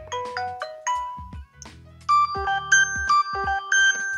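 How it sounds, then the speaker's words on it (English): Built-in ringtones from a Samsung Galaxy Watch 5 Pro play in sequence, bright electronic chimes and melodic tones in short phrases, clear and close with brief gaps between them. "The Galaxy Watch 5 Pro comes with a bunch of different ringtones."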